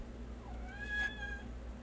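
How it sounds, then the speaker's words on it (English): A house cat gives one drawn-out meow that rises and falls, close and clear over a low steady hum, with no talking. "That's my cat."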